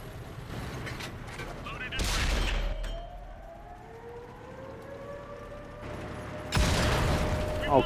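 Tank cannon fire in the World of Tanks console game, two heavy booming shots several seconds apart, loud and close, with a rising siren-like whine and mechanical tank noise between them.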